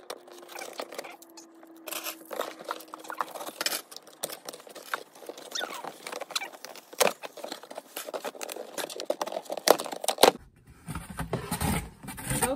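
A sneaker shoe box for Air Jordan 35s being opened, with a run of close cardboard scraping, crinkling and tearing sounds, followed by a brief scuffle near the end.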